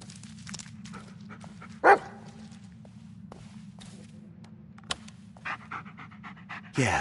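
A dog in the video game Blair Witch pants steadily and close, rapid rhythmic breaths over a low forest ambience, broken by a sharp thump and a few brief clicks.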